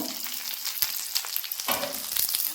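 Dried red chillies fry with browned shallots in hot oil for a long bean thoran, a crackling close sizzle with sharp pops and spoon scrapes against the pan, no speech.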